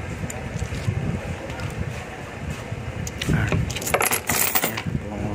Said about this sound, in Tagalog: Marami tayong barya.